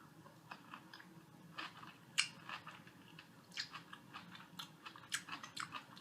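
Crisp crunchy bites and chewing of a firm vinegary pickle, close and quiet, a series of sharp cracks at irregular intervals followed by softer wet mastication.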